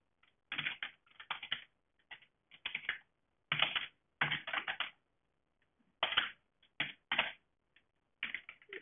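Bursts of fast typing on a computer keyboard while filling in work experience on a website template, clattering in uneven runs separated by short pauses, close and clear with no voices.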